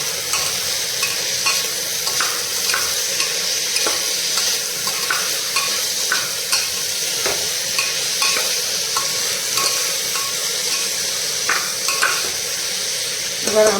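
Chopped chillies hiss and sizzle in hot oil in a pan while a utensil stirs them, scraping and clinking in a steady rhythm. The frying stays close and continuous throughout.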